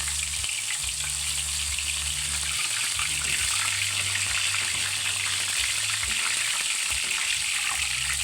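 Okoy fritters fry in hot cooking oil, giving a steady, loud, unbroken hiss of bubbling oil that carries on evenly throughout, with no voices.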